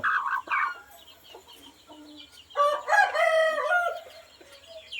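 A large gamecock rooster crows loudly nearby, its harsh call rising and falling over about two seconds, preceded by short clucking and squawking from chickens.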